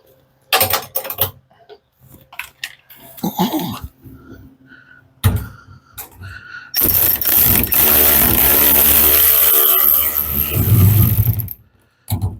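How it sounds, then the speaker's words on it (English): A hand ratchet clicks in short, uneven bursts while tightening a bolt on a VW Beetle seat, followed by a longer stretch of continuous ratcheting and mechanical clatter, close to the mic with a few quiet sounds between. "Okay, let me get a ratchet on it up there."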